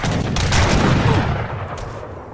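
Gunfire in the strategy game Age of Empires III, heard as a dense, loud volley of overlapping musket-like shots and booms that crackle for about two seconds and then fade.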